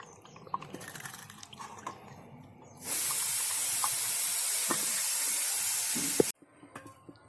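Running water sprays in a steady hiss for about three and a half seconds while chunks of ash gourd are washed, framed by quieter clinks and small handling sounds before and after; no talking.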